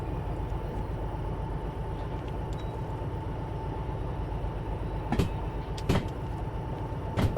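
Locomotive running in the train simulator Derail Valley, a steady low rumbling engine drone with a faint hum, close and continuous, joined near the end by a few sharp clicks and clanks.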